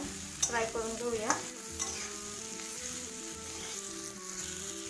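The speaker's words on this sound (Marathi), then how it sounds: "आता भेंडी आपण असं छान फ्राय करून घेऊया." Okra stir-fries in hot oil for masala bhendi, a soft steady sizzle with a few sharp clinks and scrapes of a spatula against the pan early on, then calmer frying.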